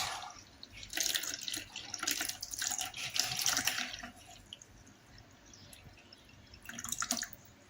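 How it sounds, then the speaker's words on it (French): Waste water draining from a Euronda E8 autoclave into a container, a splashing, trickling stream in irregular surges, close and moderately loud, fading to quieter dripping before a final brief gush. "Vous voyez donc l'eau usée se vide."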